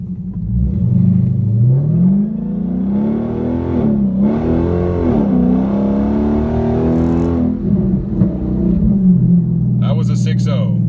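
A 2019 Dodge Scat Pack accelerates from a standstill held in first gear, the engine note climbing and revving hard in rising sweeps, loud and close, with a voice talking briefly over it.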